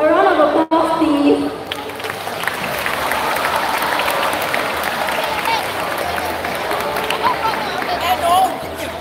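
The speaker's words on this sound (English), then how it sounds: "A round of applause, please." A school audience at a Chinese New Year celebration applauds a choir performance: sustained, dense clapping from a large crowd that holds steady for several seconds, with a voice heard briefly at the start.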